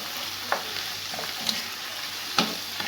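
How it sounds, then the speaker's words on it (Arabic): Ingredients for onion-filled msemen (rghaif) being stirred together in a bowl: a soft, steady rustle of mixing with a few brief scraping knocks, fairly quiet and close, with no talking. "غنخلطوا هاد المكونات كامله"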